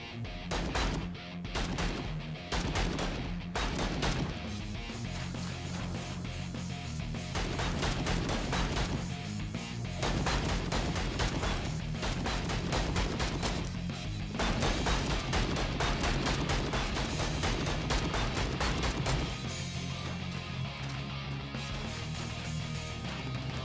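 Repeated pistol shots ring out in the llama-apocalypse shooter VALA, sharp bursts firing in an uneven rapid rhythm over a continuous loud game soundtrack that runs the whole time.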